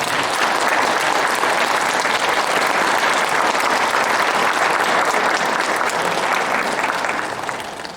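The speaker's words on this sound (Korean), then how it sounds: "여러분 그분 한 명의 박수를 부탁드립니다" An audience at a lecture applauds to welcome the guest speaker, a dense, loud, continuous round of clapping that holds steady before easing off slightly at the very end.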